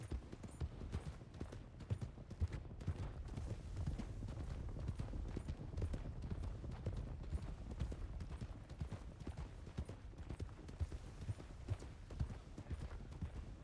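Horses trot in Red Dead Redemption, a continuous rhythmic clip-clop of hooves at moderate loudness, with occasional faint background sounds.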